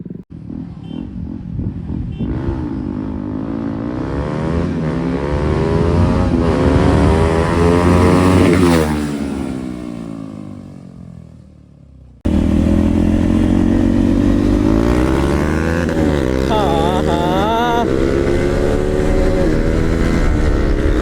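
Loud motorcycle engines roar and rise in pitch as bikes accelerate past in a drag race, fading away, then another strong engine drone revs up close.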